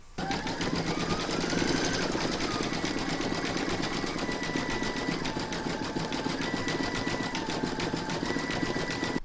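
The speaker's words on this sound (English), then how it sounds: "place whatever thread you want into your machine for those and then stitch round number 4" An embroidery machine stitches the facial features of an in-the-hoop stacked pumpkin, giving a steady, loud, fast mechanical whir with a rapid needle rhythm that runs unbroken for the whole stretch.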